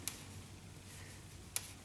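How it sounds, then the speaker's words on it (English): Two sharp, faint plastic ticks from a crochet stitch marker, spaced about a second and a half apart over a quiet background while working a lotus stitch. "I'm sorry for the ticking noise of that stitch marker."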